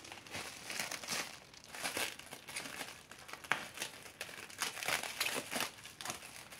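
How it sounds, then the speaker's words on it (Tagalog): Plastic wrapper being torn and peeled off a package, continuous close crinkling and rustling in irregular bursts, with no talk. "Buksan natin kasi naka-wrapper masyado, mandaming wrapper."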